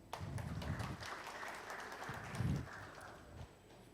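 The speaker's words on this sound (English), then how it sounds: "So please clap for yourselves." Audience applause at a welcome address, a steady patter of many hands clapping at moderate level for nearly four seconds, swelling briefly near the end before tapering off.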